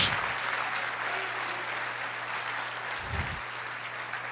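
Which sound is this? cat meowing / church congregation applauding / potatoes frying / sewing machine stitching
church congregation applauding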